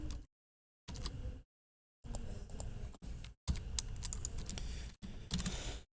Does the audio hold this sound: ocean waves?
no